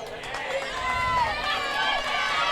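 Spectators lining both sidelines at a netball grand final cheer and roar steadily, a sustained crowd wash with whistles and shouts, while a commentator talks over it.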